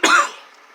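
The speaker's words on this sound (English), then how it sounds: "Still have my cough." A single short, harsh cough from a person close by, over in a fraction of a second and followed by quiet room tone.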